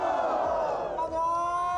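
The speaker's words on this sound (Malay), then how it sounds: "Kami mau dengar sorakan kita pada begitu dulu." Crowd cheering and shouting together to open a morning regatta event, a loud, dense roar of voices with sustained whoops and yells that rises and then settles into held cries.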